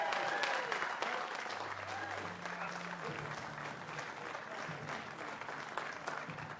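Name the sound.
applause at a timbersports championship podium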